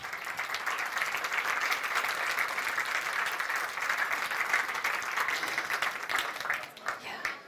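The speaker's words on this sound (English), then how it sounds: "Please give a very big applause to Polaris." Audience applause at a 38C3 conference talk on computing genomes and privacy, a steady, dense wash of clapping that fills the hall at even loudness, tapering slightly near the end.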